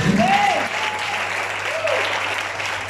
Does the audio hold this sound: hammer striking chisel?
no